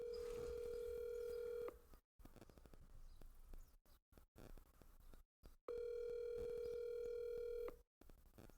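Outgoing call to a person named Lincoln: two long ringback tones, each about 1.7 seconds, separated by a stretch of quieter line noise and clicks, with the ringing repeating and nobody answering.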